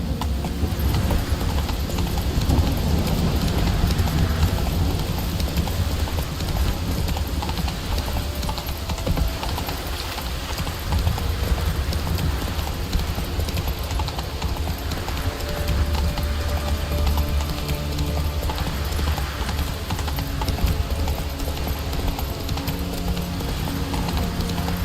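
Roach the horse gallops in a video game, a continuous fast drumming of hoofbeats that stays loud and close throughout amid dense game background sound, with an occasional faint whinny.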